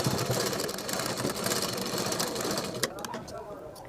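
A sewing machine stitching a folded fabric tassel for a fancy blouse back-neck design runs in a steady, close mechanical whir that continues throughout, easing slightly near the end.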